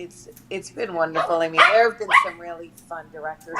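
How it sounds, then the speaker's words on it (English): Dogs bark in the background of a conversation, their yips mixed in with and partly masked by the voices of people talking. "Sorry for my dogs."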